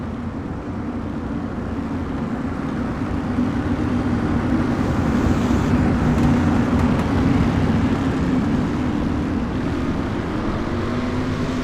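Modified race cars roar together in a dense, sustained engine drone as a heat race gets under way on the track, loud and continuous with a slight swell in the middle, with no talk over it.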